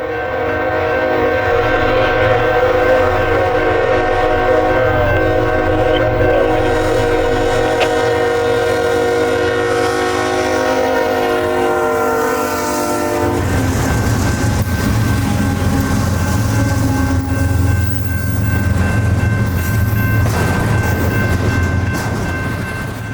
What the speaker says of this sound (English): Southbound Norfolk Southern double stack train symbol